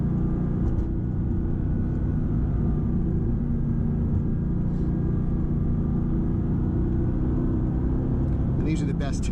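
A 503-horsepower Mercedes AMG GTS drones under steady cabin road rumble while driving in slow traffic, with someone talking over it throughout.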